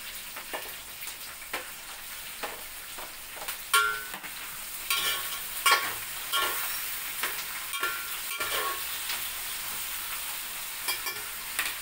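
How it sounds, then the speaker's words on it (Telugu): Chopped tomato goes into a pan of frying onions for Andhra-style biryani, giving a steady sizzle with scraping stirs and occasional clinks, close up and without speech. "ఇప్పుడు టమాటా కూడా వేసేస్తున్నాను."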